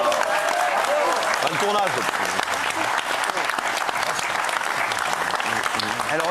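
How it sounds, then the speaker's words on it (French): A studio audience at a French talk show breaks into steady applause for a departing guest, dense clapping that holds at an even level throughout, with a voice speaking briefly over it. "on l'applaudit"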